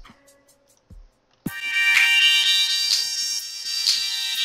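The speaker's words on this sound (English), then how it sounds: "it sounds a bit like trance" Royalty-free trance track generated by software, bright synth layers entering abruptly after a quiet start with a few faint clicks, then sustaining loudly with pulsing accents to the end.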